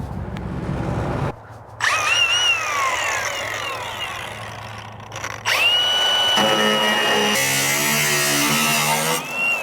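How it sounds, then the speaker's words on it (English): An angle grinder cuts into the rear fenders of a Toyota Hilux, its loud whine starting, stopping and restarting in bursts, with a steady engine-like hum underneath. "Looks like we might have to grab the angle grinder real quick and clearance these rear fenders."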